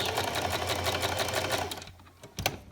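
A sewing machine runs a straight stitch along a quarter-inch seam on fabric for a baby sleeper, steady and close for about two seconds before stopping, followed by a couple of faint handling clicks.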